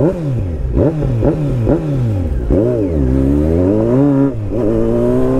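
A superbike motorcycle revs hard in repeated loud bursts, each rising and falling sharply, then pulls away with a long climbing engine roar, close by and with no talking.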